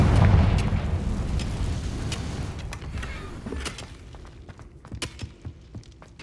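A Confringo blasting spell going off in Hogwarts Legacy: a loud, close, rumbling explosion that slowly fades, followed by scattered popping and crackling debris sounds.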